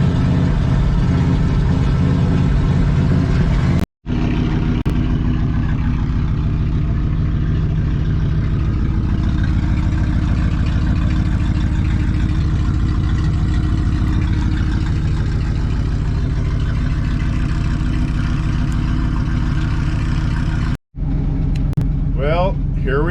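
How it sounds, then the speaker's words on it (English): Engine of a loaded truck with an automatic transmission, on a mountain road, running steadily at a low rumble, loud and close, for about twenty seconds, with two brief cutouts. "Loaded truck heading down the mountain."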